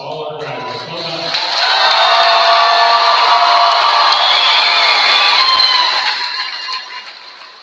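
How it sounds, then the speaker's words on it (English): Graduates at a high school graduation ceremony receive a large crowd's applause and cheering with whoops, building quickly to a loud sustained roar, then fading slightly near the end. "Please, a large round of applause for all our graduates."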